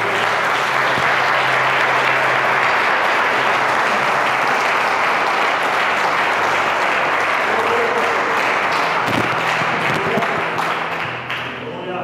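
A church congregation applauds the Lord in a loud, sustained wash of clapping from many hands that lasts several seconds, with voices mixed in and a slight fade at the end.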